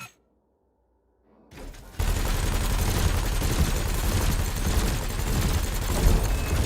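Ship weapons on a craft in Elite Dangerous firing at canisters in a combat exercise. After near silence, steady loud rapid fire begins and keeps going, with a low rumbling blast texture beneath.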